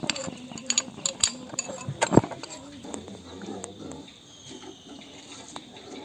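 Tempering tipped into a Kerala pineapple pulissery curry: scattered metal clinks of a spoon and pan, then one sharp splash with a brief sizzle, followed by quiet stirring.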